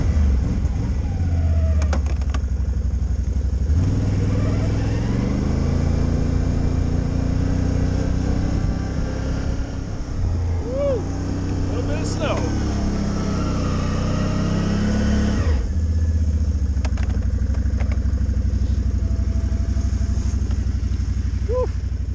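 An ATV engine pulls through about a foot and a half of snow on a forest trail, a steady close-up drone that swells and eases with throttle changes throughout.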